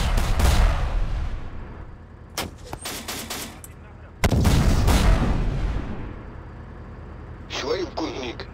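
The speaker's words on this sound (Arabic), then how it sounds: "ضربوا علينا رصاص" Gunfire in the war game Syrian Warfare comes as loud, close volleys of shots and booms in two heavy clusters, with quieter stretches and a final short burst between them.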